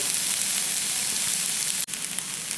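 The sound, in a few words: venison and wild pig fried rice frying and being stirred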